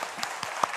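Church congregation applauding, a short dense wash of clapping with a few sharper claps standing out, fairly close and moderately loud.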